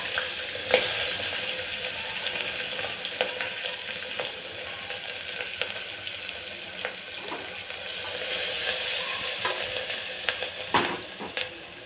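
Onion, green chillies and curry leaves fry in oil with mustard seeds, cumin and asafoetida for a potato dish, a steady close sizzle broken by occasional spatula scrapes, with no talking.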